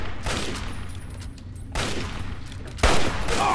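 Gunfire in Fallout 3 comes as dense bursts of shots in close succession, with a loud cluster near the start, another around the middle and a heavy blast near the end, all fairly loud and close with no talking over them.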